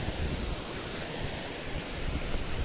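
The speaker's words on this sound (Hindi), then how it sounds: "एक झरना आता हुआ उसी लेक से, बहुत ही खूबसूरत, बहुत ही खूबसूरत।" A waterfall pours down from Katarnag lake near Mount Kolahoi, a steady, broad roar of rushing water that holds constant throughout with no voices.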